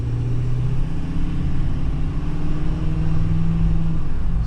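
Ford F250 pickup with a 6.7L diesel and a cold air intake, a steady loud low engine drone and rumble that holds throughout, rising slightly in pitch as it pulls from a standstill, no talking.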